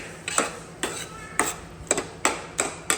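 Garam masala being stirred and sautéed in a pan, the spatula scraping in regular strokes about every half second, each a short clinking scrape over a low background, with no voices.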